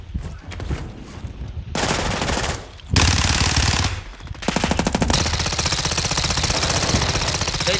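Automatic weapon fire in the video game Call of Duty DMZ, loud sustained bursts of rapid shots with brief pauses, ending in a long continuous rattling volley.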